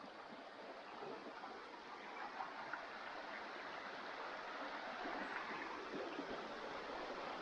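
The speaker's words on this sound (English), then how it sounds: "the creek is running" Low, shallow creek water during a dry spell flows steadily with a soft, continuous trickling wash, fairly faint and even throughout with no voices.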